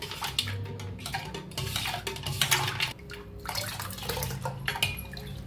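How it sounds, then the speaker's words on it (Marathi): Ice is stirred into green pani puri water with onion, coriander and lemon juice, giving close, continuous clinking, rattling and sloshing sounds in a vessel. "त्याच्यात बर्फ जरा मिक्स करून घेऊया आपण"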